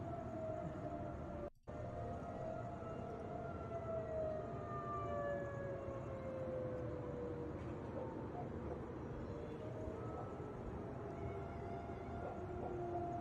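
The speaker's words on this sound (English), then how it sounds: "you can hear the tornado warning sirens" Tornado warning sirens wail across Chicago during a severe derecho storm, long rising and falling tones sweeping steadily over a constant wash of distant background noise, with one brief dropout partway through.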